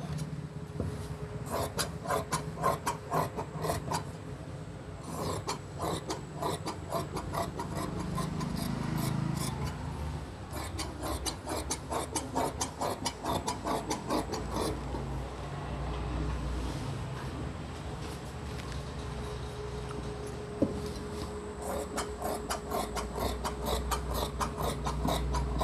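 Scissors cut shirt fabric along a curved line, producing steady close rubbing, rasping snips that repeat continuously without talk.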